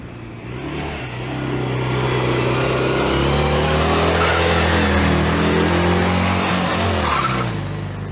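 A Citroën 2CV engine revs hard and loud, its droning pitch climbing and holding steady for several seconds before easing off, with no voices over it.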